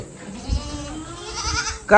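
A goat bleats close by in a wavering, drawn-out call, with faint background sounds and a short louder noise at the end.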